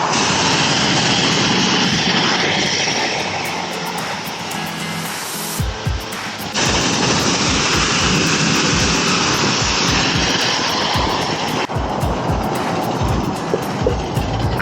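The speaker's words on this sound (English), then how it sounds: "high pressure rinse." A high-pressure rinse at a car wash roars loudly and continuously, briefly cutting out and restarting partway through, with a few dull thumps mixed in.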